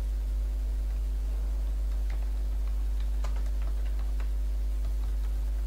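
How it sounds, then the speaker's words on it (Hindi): Several light computer mouse clicks, scattered and faint, over a steady low electrical hum while a pointer is placed on a bullet item in a document. "माउस को पॉइंटर यहाँ पे रखना है और माउस से क्लिक कर देना है"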